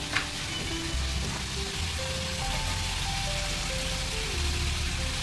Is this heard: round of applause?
no